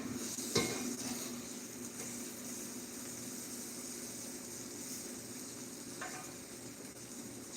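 A spoon stirs tomatoes in a cooking pot, with a sharp clink of metal against the pot near the start and another faint one later, over a low, steady kitchen background.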